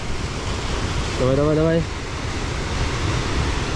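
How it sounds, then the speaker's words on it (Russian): Water rushes and churns in a river just upstream of the Shaki waterfall in Armenia: a steady, close broadband roar fills the whole stretch, with a man's brief call rising over it partway through. "Да, здесь вода бурлит, но до водопада."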